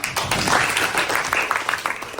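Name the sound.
applause, clapping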